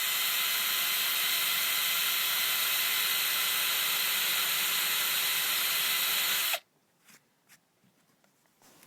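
Drill bit grinding steadily into a leather bushcraft work glove, a loud continuous motor whir for several seconds that cuts off abruptly, followed by a few faint clicks and handling noises.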